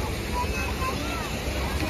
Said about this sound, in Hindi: ये आ गए हम फाउंटेन पर,